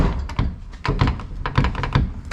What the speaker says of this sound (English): The quarter panel is so buckled that the latch does not line up.